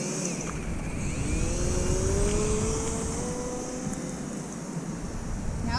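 An FT Mighty Mini DR1 triplane RC plane buzzes overhead, its electric motor whine rising and falling in pitch as it passes at moderate distance over steady wind noise.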